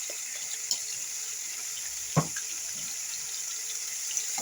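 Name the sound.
water poured into frying liver masala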